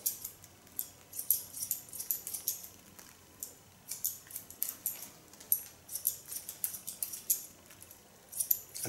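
Scissors snip through hair during a short feminine haircut, a series of close, crisp metallic clicks in an uneven rhythm, heard alone in a quiet room.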